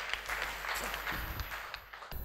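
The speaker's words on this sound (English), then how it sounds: "give him a round of applause." An audience at a Holy Family feast gathering gives a round of applause, with steady clapping throughout and a brief break near the end.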